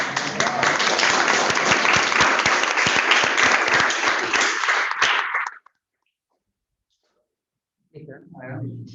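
An audience at a medical case presentation claps in sustained applause for about five seconds, then it stops abruptly; after a pause, a voice speaks.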